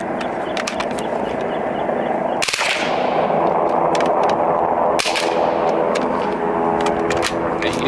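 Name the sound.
fully automatic air gun firing Vortex lead pellets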